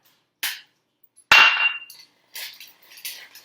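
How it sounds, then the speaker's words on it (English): Brown sugar, cinnamon and baking soda being sifted for oil-free oatmeal cookie dough: a few sharp clinks and knocks, like a metal sifter tapping a glass bowl, with a loud rattling burst in the middle and softer taps after. "Just sift that in."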